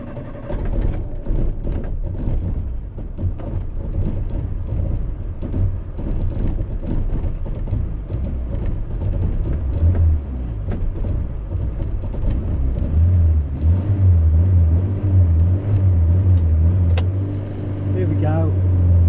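A Morris Minor car with failed ignition points runs unevenly, its engine idling and misfiring in a loud, close, low rumble that carries on throughout, with people talking over it.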